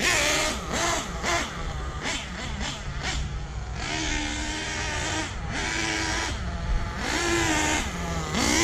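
A Hobao Hyper VS2 RC car during break-in, its engine buzzing loudly and steadily with repeated rising and falling revs, heard up close.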